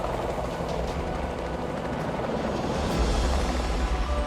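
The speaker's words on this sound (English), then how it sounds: "I look up and there's this insane helicopter." A helicopter's continuous low rotor and engine roar fills the air at moderate distance, steady and broadband, gradually growing a little louder toward the end.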